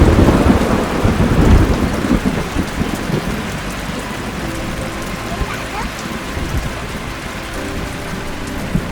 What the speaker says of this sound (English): the rain kept following me